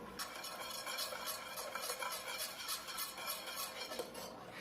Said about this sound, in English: I'm gonna whisk this all in, whisk this all together